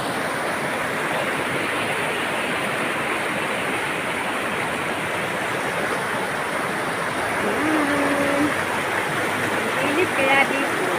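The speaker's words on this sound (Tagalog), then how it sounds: "Ang ganda ng agos ng tubig." River water flows in a steady, close rushing wash, with a brief bit of muffled voice near the end.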